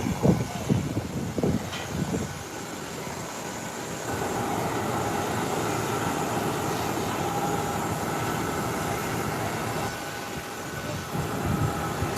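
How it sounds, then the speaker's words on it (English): Small aircraft taxiing along an airport taxiway, a steady engine drone heard from a distance, continuous and moderately loud, with some rumbling at the start. "There goes the small aircraft taxiing to this taxiway."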